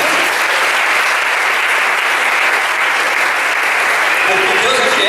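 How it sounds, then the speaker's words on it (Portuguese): A church congregation applauds loudly and steadily, dense continuous clapping from a large crowd that fills the space for the whole stretch, with faint voices mixed in near the end. "Você pode aplaudir o Senhor Jesus?"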